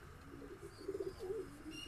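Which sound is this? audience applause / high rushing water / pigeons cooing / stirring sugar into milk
pigeons cooing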